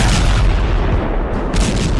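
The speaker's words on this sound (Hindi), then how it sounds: "जिसमें आसमान से दनादन बम बरसता है।" Heavy bombs from an airstrike explode in a continuous, loud rumbling barrage of booms and blasts that fills the whole stretch with no pause and no voices.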